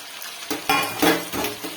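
Fried okra tipped into a pan for a Kannada okra palya, giving a steady close sizzle with bursts of stirring, scraping and utensil clinks against the pan.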